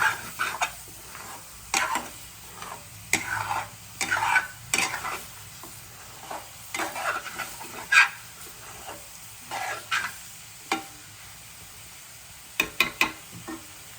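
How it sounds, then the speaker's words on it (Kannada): Egg bhurji sizzles and fries in a pan on a stove while a spatula stirs and scrapes it in repeated bursts, a soft steady frying hiss running beneath the nearby clatter. "ಕಲಿಸ್ತಾನೆ ಇರ್ಬೇಕು ಎಗ್ ಬಜ್ಜಿ, ಇಲ್ಲಾಂದ್ರೆ ಅಡಿ ಇಟ್ಕೊಂಡ್ಬಿಡ್ತೀವಿ"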